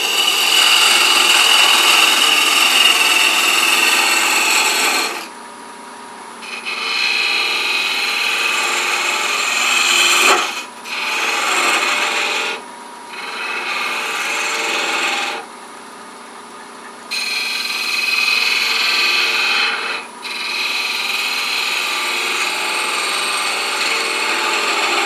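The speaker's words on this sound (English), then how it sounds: "I'm going to mark that very clearly with a parting tool so I can shape down to it" A parting tool cuts into wood spinning on a lathe, a bright scraping hiss in repeated bursts of several seconds separated by quieter motor hum as the tool is withdrawn.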